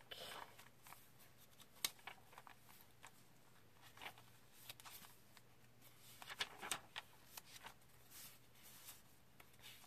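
Pages of a handmade journal with typography paper pockets and ledger paper are flipped quickly, producing soft, quiet rustles and light papery flicks in an irregular run.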